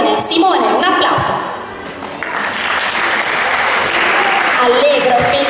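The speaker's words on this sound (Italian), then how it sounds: "Un applauso, prego." Audience applause fills a cabaret comedy show, starting under a voice and swelling into steady, loud clapping that carries on to the end.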